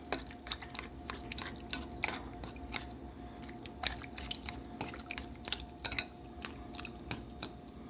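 Food stirred in plenty of oil in a pan gives quiet, irregular clicks and scrapes of a utensil against the pan over a faint background hiss, with no talking.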